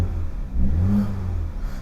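A petrol BMW 220i M Sport Gran Coupe engine idles low and then revs up briefly around the middle before settling back, a steady close rumble with no voices.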